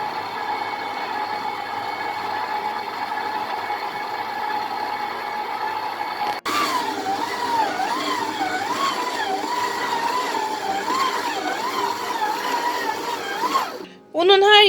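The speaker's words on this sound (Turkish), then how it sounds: "Bu ucu da taktıktan sonra maya unun her yerine eşit miktarda bulaşana kadar en düşük devirde çalıştırıyorum." A stand mixer hums steadily at its lowest speed, mixing flour and yeast for pide dough, with a brief jolt midway and a clatter near the end as the motor stops; someone talks over the steady drone.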